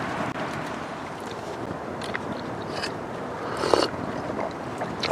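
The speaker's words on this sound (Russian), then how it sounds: "Ветрище такой сильный на улице." Strong March wind in a forest heard from inside a tent, a steady broadband rush with buffeting on the microphone and a few brief scrapes and flaps, close and unbroken with no talking.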